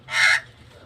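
A twenty-eight parrot gives a single harsh, loud call close by, lasting under half a second, with no voices over it.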